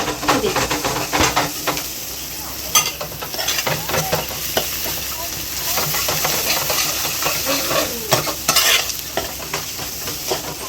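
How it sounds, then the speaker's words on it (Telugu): Egg curry with ginger paste fries in a pan while a spoon stirs it, giving a steady loud sizzle broken by frequent scraping knocks against the pan, close up and with no talking. "సో ఇప్పుడు దీన్ని మిక్స్ చేసుకుందాం మంచిగా"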